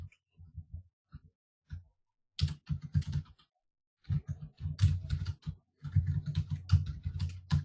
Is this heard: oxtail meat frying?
no